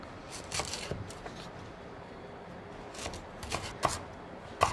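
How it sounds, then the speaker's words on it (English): A knife cuts potato planks into fries by hand on a board, giving a handful of sharp, irregular chops, close and fairly quiet, with no talking. "Now you can cut the planks across."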